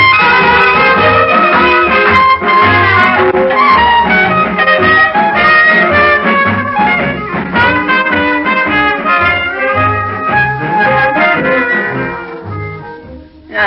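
An old-time blues recording plays loud and continuous, a full band-like texture with steady rhythm and no talking, its sound narrow and lacking sparkle like an early record.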